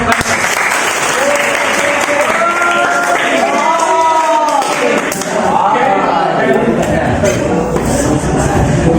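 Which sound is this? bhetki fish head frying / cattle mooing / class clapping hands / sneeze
class clapping hands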